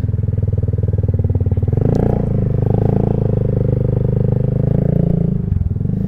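FKM Slick 400 maxi scooter with a 400cc engine, running with a loud, steady pulsing drone close by for about six seconds and briefly swelling partway through, with no talking.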